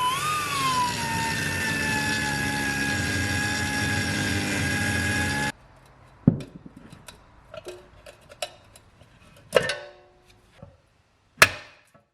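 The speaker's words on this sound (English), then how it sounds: "To take the plate out, I'm going to first grind away these rivets." A grinder cutting away rivets on a plate from a classic Saab 900 whines steadily for about five seconds, then cuts off, leaving scattered metallic clicks, taps and a couple of sharp clanks.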